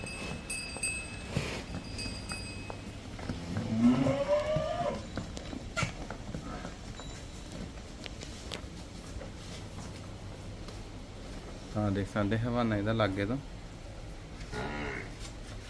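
A water buffalo on a farm gives two long, low moos several seconds apart, fairly close and clear, while people talk quietly at intervals in between.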